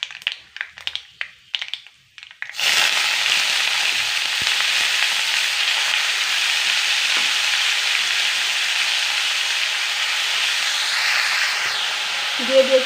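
Cabbage pieces coated in lentil paste drop into a hot pan and break into a loud, steady sizzle of frying that holds unbroken after a few sharp knocks and clatters at the start.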